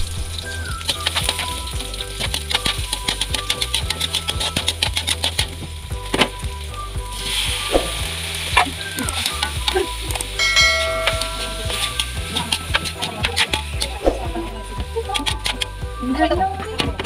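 Garlic, onion and tomato frying in a pan, a steady crackling sizzle with dense ticking pops, close and continuous while someone speaks over it.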